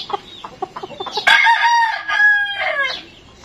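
A young January-born rooster crows loudly and close, one full drawn-out cock-a-doodle-doo preceded by soft clucking, with no one talking.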